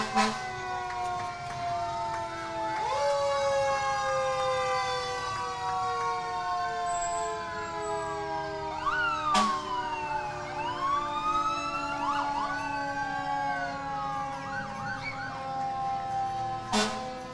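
East Fishkill Rescue Squad ambulances and other emergency vehicles sounding their sirens together at a community day, loud overlapping wails and yelps sweeping up and down continuously, with sharp horn bursts cutting through.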